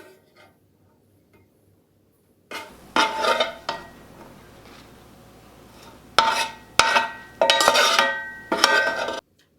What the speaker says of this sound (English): I'm gonna take this out and let it cool on a sheet pan with some paper towels